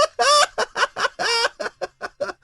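A chicken clucking sound effect plays on a radio show, with loud, close, rapid squawks and clucks, a couple of drawn-out calls among short choppy bursts, and no voices.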